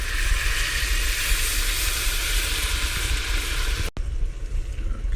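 Loud, steady sizzle and hiss of vegetables in a hot pan as about a cup of Pinot white wine hits it, close and continuous, with a brief dip near the end.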